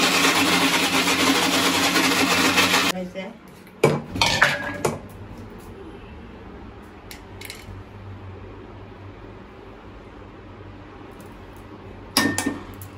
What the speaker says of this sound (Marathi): सर्व तांदूळ मी आता तसेच बारीक वाटून घेते